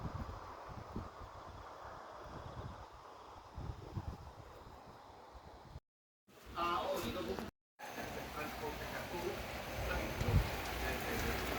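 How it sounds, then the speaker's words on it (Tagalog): Steady heavy rain in New Zealand hisses and patters continuously, with gusty rumbling noise and a couple of brief dropouts, no voices evident. "Lakas ng ulan, oh."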